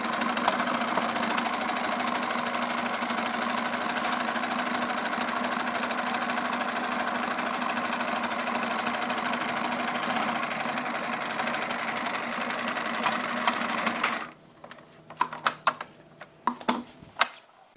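Sewing machine stitching pontoon boat seat upholstery, a steady loud mechanical whir running continuously for most of the time, then stopping, followed by scattered clicks and handling noises.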